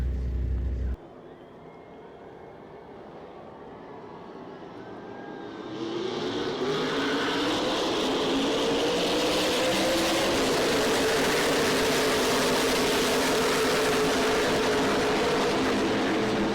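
Racing trucks roar past on a race track, their engines building from a low rumble into a loud, sustained drone with rising and falling pitch as they pass close by, no voices over it.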